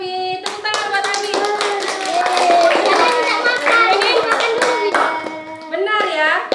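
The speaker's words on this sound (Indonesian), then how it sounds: "Tepuk tangan buat Abi." Classroom of young children clapping for a classmate after a presentation, rapid uneven handclaps close by, mixed with loud children's voices and cheering chatter throughout.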